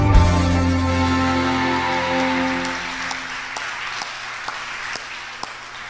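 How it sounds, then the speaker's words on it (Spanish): A church congregation applauds steadily, with the clapping running under a sustained musical chord that fades away, leaving sparse claps toward the end. "Recibamos con un fuerte aplauso la palabra de Dios."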